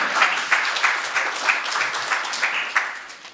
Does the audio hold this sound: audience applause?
yes